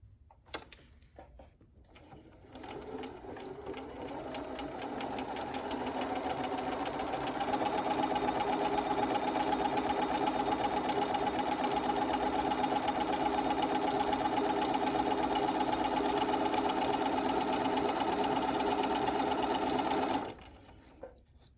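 A sewing machine stitches the edge of a fitted fabric face mask, running at a steady close-up whir for about eighteen seconds before stopping abruptly.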